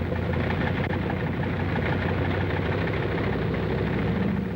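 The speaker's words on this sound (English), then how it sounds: "The sound of the engines warming up starts before dawn" Bomber aircraft engines warm up at an airfield flanked by mountains before dawn, giving a steady, dense mechanical drone that holds evenly and alone for the whole stretch.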